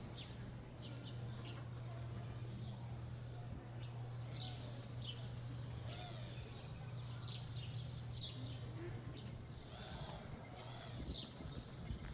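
Scattered bird chirps sound from above a steady low hum in a quiet town in Jocotepec, Jalisco, light and intermittent throughout, with no one talking.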